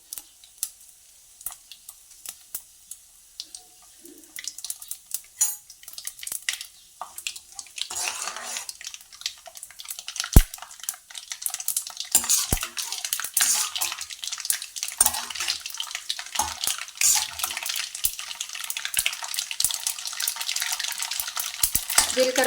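Mustard seeds and broken dried red chillies fry in hot oil for a tomato curry, starting quiet and building into a dense, crackling spatter of popping seeds with occasional utensil clinks.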